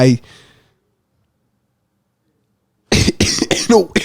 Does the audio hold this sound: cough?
yes